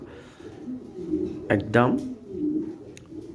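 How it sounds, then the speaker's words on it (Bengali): Racing club pigeons cooing in a short close burst amid ongoing talk, with background speech throughout. "2টেই ক্লাবের কবুতর রেস করা"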